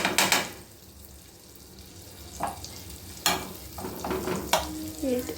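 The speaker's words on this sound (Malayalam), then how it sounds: "ബട്ടറൊന്ന് ഉരുക്കാനായിട്ട്" Butter melting in a pan sizzles softly at a low level, broken by several sharp clacks and stirring scrapes of a utensil against the pan.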